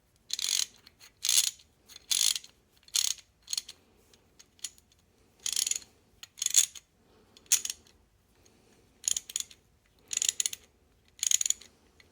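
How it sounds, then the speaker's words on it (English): An old Craftsman 44985 ratchet, rebuilt, clicks in short bursts of rapid pawl ticks separated by brief pauses, close and crisp, repeating about a dozen times with no voices. "A Ratchet that I've had since the mid-'80s is ready to go back to work."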